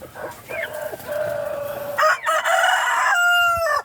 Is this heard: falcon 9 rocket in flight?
no